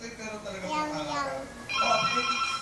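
A cellphone rings with a steady, tonal ringtone that grows louder partway through, while people talk over it.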